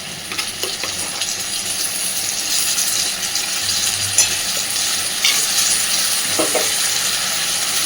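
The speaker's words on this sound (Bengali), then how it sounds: "মশলাটাকে এবার খুব সুন্দরভাবে সবার সাথে কষে নেব" A ground paste of onion, ginger, garlic and tomato fries with rice in a pan over a low flame, giving a loud, continuous sizzle and hiss with occasional scrapes from stirring.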